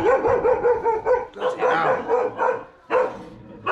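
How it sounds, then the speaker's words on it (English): A dog in a Vietnamese village barks frantically and repeatedly at close range, loud sustained bursts with a short pause before another outburst. "this dog's going crazy"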